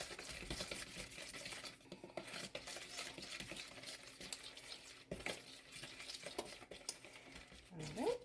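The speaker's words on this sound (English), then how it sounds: "And then mix that all together." An egg yolk mixture being stirred in a bowl, heard as quiet, close, repeated scraping and clinking of a utensil against the bowl in an uneven rhythm.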